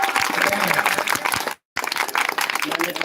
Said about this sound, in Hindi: ताली बजा दीजिए परवेश जी के लिए